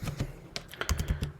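Keys clatter on a computer keyboard in a quick, uneven burst of about a dozen close taps, fairly soft and with no voice over them.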